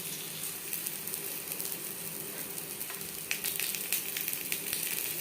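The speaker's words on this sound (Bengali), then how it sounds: "আলু ভেজে নেব।" Halved, boiled potatoes fry in a pan for an Indian-style chicken curry, giving a steady low sizzle that turns into brighter crackling spatters partway through, with no one speaking.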